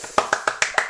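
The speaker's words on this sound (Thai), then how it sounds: "ปรบมือ" Five quick, sharp hand claps in a fast, even burst, close and fairly loud, with no voices.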